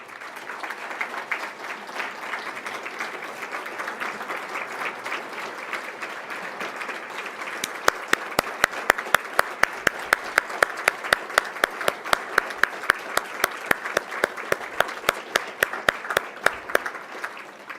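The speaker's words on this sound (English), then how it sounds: "So would you please let us applaud you and stand for us, please." Gala audience at a scholarship ceremony applauding, a soft wash of clapping that swells into loud, distinct close-up claps partway through and keeps going steadily to the end.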